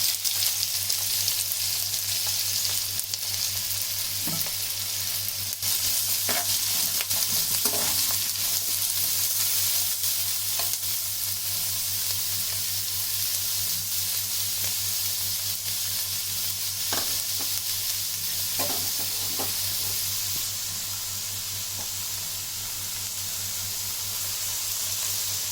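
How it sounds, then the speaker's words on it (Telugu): Onion pieces fry in oil for chicken mandi biryani, a steady close sizzle with occasional stirring clicks and scrapes throughout. "కొంచెం ఆయిల్ వేసుకుని ఆనియన్ ముక్కలు వేసుకోవాలి."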